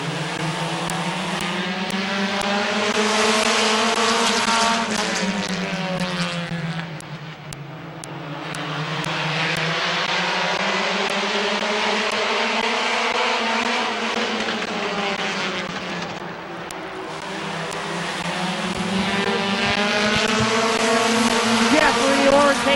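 Compact race cars circle Midvale Speedway in an evening heat, their engines droning loud and steady with rising and falling pitch as the pack passes, under an announcer's ongoing commentary.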